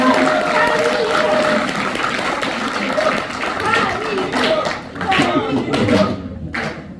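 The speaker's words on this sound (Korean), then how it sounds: "오늘 이분 강의를 듣고자 이 자리에 참석해 주신 여러분들의 큰 박수와 함성으로 강희연 원장님을 모시도록 하겠습니다" An audience at a lecture on basic society applauds and cheers to welcome the speaker, a dense sustained wash of clapping close by with a voice talking over it.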